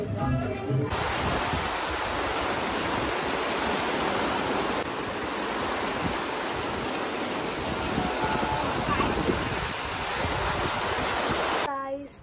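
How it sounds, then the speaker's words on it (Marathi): Heavy rain pours down steadily at night near a temple with a tin-sheet wedding canopy, a dense, even roar that holds throughout, with brief voices at the start and end. "आत्ता आमच्या इथे खूप पाऊस पडतो आहे."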